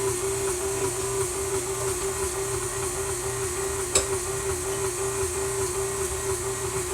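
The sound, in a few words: Mixmaster stand mixer running on low mixing cake batter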